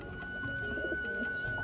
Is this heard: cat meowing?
no